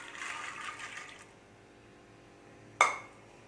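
Soaked black chickpeas tumble into water in a pressure cooker, a soft rushing pour for about a second, then quiet before a single sharp splash-clunk near the end.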